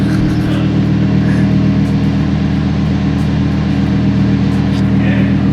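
A 2020 Lamborghini Huracan Evo engine in Sport mode makes a loud, sustained, throbbing drone that fills the whole stretch, with a voice faintly present beneath it.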